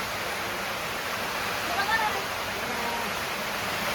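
Rainwater pours into a house in a steady, dense rush of broadband noise that stays constant throughout, fairly loud and close, with a faint voice briefly audible beneath it.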